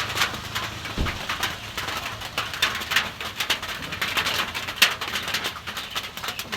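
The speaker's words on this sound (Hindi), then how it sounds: "बारिश हो रहा है।" Rain falls at a roadside stop beside a pond, a soft, steady patter with scattered sharper drips, faint and continuous without speech.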